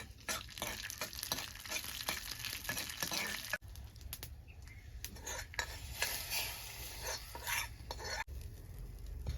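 Dry red chillies and tempering spices crackle and sizzle in hot ghee, with a spoon stirring and scraping the pan, close and fairly quiet with no talking.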